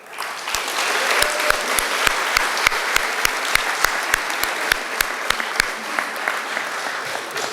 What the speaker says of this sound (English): So I think that deserves maybe a round of applause, right?